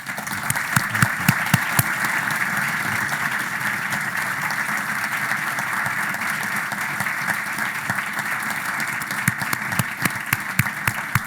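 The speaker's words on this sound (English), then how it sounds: "welcoming him with a strong round of applause" A strong, sustained round of applause welcomes a speaker at a live-streamed event honouring war veterans, a loud, even roar of clapping from a large crowd that holds steady for over ten seconds, with a few sharper claps near the start and end.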